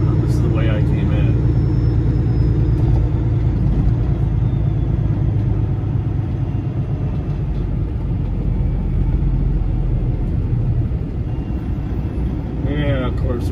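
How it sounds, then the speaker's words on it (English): A truck approaches on a road, heard as a loud continuous low engine rumble that builds and stays close throughout, with people talking over it. "of course there's a truck coming"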